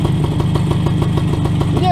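A WSK motorcycle engine runs at a steady idle with a fast, even two-stroke putter. It is loud and close, and a brief voice-like sweep is heard near the end.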